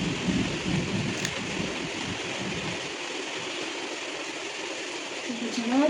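Steady rain pours down with a low rumble of thunder at the start, a continuous hiss that softens slightly as it goes.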